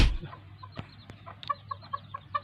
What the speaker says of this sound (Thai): วันนี้ก็เลยจะมาถ่ายนะครับถ่ายลูกน้อยไก่เจ้ให้ดูนะครับ